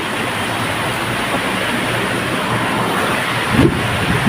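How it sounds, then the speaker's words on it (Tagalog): Loud, dense typhoon rain roars steadily as a constant wash of noise, with a brief thump or rumble near the end. "Ang lakas ng ulan na dito."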